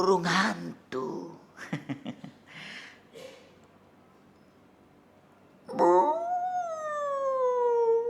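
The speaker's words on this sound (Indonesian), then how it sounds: "Itu suara anjing hutan." A wild dog's long, rising-and-falling howl sounds out on its own after a few short voiced sounds and a quiet pause.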